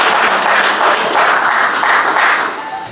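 Loud, dense applause from an audience at an award ceremony honoring journalists and social workers. It is a steady wash of many hands clapping together, sustained for a few seconds, then starting to fade.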